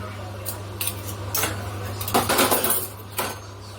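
A utensil stirs potatoes under boiling water in a pot while making farm bread, giving several irregular metallic clinks and scrapes against the pot over a low steady hum.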